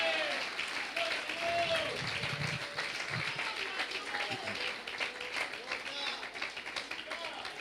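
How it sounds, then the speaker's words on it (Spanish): A church congregation applauds during a sermon, mixed clapping and crowd noise at moderate level with voices and shouts mingled in, fairly busy and sustained. "Oh, que alguien aplauda nuevamente porque la sangre de Cristo tiene poder."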